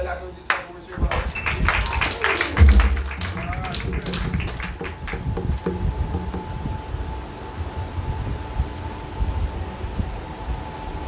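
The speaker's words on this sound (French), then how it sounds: "Un bel applaudissement pour M. Marc" Applause for Mr. Marc breaks out in a Haitian Baptist church service, a burst of scattered clapping that swells loudly then thins into a long, softer patter with room noise.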